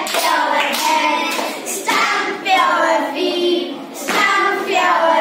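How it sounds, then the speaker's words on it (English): Children in a school classroom clap their hands along to a sung action song, with sharp bursts of claps breaking through the continuous singing voices. "And clap your hands, and clap your hands."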